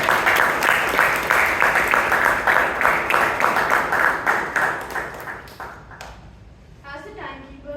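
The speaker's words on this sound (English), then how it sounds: "Please give him a huge round of applause" Members at a Toastmasters club meeting in Bangalore clap in a strong round of applause that fades over several seconds, after which a voice begins speaking.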